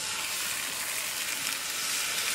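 Gundel pancake batter sizzles steadily in a very hot pan, a loud continuous frying hiss with no talk over it.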